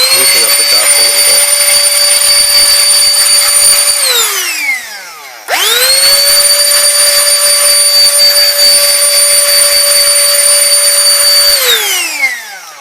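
A Canless Air O2 Hurricane electric air duster runs in two loud, close bursts, each a steady high motor whine that spins up sharply and winds down, with a brief pause between them.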